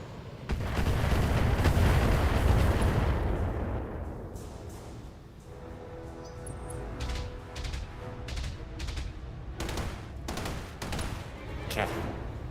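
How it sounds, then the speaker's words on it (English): Missile turrets fire in the BattleTech video game, opening with a loud, dense volley of booming launches, then a run of sharp, scattered impacts and thuds at middle distance. "Sensor lock, more missiles."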